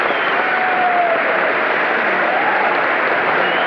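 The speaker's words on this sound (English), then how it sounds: "Standing applause." A large audience at a governor's State of the State address gives a sustained standing ovation, dense continuous applause that stays loud and even throughout, with no break.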